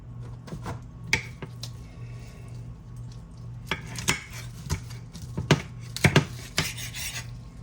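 A kitchen knife cutting through cooked chicken in a pan, producing a series of close, sharp chopping knocks and scraping strokes in an irregular rhythm, with no speech.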